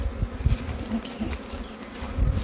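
Honeybees buzzing at an open hive during an inspection: a steady, close swarm hum with individual bees droning past, swelling and fading in uneven pulses with no talk.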